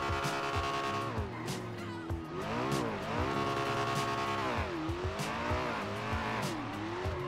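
A McLaren with a custom engine sound in the FiveM video game revs up and down repeatedly, its engine note climbing and falling under tire squeals, loud and steady throughout.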